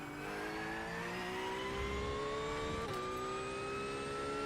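A Porsche 911 GT3 engine in the iRacing video game revs high and climbs steadily in pitch with a brief dip at a gear change, a loud continuous whine with no voices.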